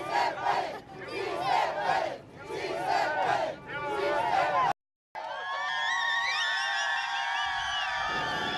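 Protest crowd at a 2006 immigration demonstration in downtown Los Angeles, loud voices chanting and shouting in surges, then after a brief dropout a wailing police siren rises over the sustained crowd noise.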